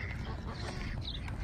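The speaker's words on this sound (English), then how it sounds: "Whole bunch of ducks." Ducks quacking in a municipal park in Edinburgh, a steady mix of calls from a flock close by over outdoor background noise.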